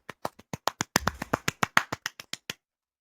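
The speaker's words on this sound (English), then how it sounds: "I'm going to give a polite golf clap." About fifteen sharp, evenly spaced hand claps ring out close and alone, a polite golf clap with a brief denser flutter partway through before it stops.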